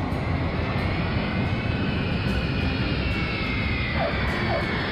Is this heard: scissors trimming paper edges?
no